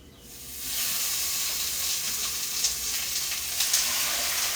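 A thick steak dropped back into a hot frying pan, bursting into a loud, steady sizzle with crackling spits, close and continuous.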